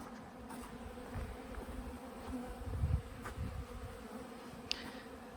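Honeybees on their first late-winter to spring cleansing flight buzz steadily around an apiary in a continuous low drone, with a few faint clicks and no talk.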